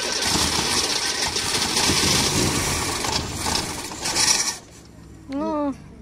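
The engine of a Fiat 128 Super Europa car is cranked, a steady, loud mechanical churning that runs for several seconds and then cuts off, followed by a brief voice.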